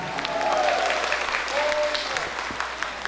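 Sustained applause from a concert audience for a performing ensemble, dense and even throughout, with a voice speaking faintly over the clapping.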